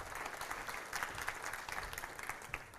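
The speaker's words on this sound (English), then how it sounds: "Applause, yeah." A small audience at a talk on marketing automation clapping steadily, moderately loud, with no voices.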